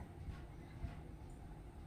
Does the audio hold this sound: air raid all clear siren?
no